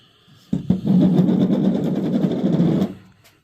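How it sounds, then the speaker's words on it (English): A welder joins a V-band flange onto turbo pipe for a turbocharged Chevrolet Caprice build. It makes one close, steady crackling buzz lasting about two and a half seconds, set off by a couple of short stutters, with no talking. "Weld me a V-band on there."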